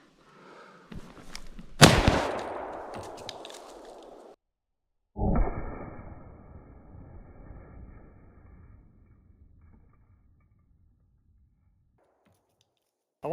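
Lever-action rifle shots fired at a can outdoors: a sharp loud crack with a long ringing echo, a second shot a few seconds later that also trails off, and the start of another bang at the very end.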